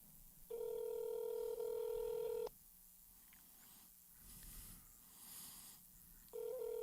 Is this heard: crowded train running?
no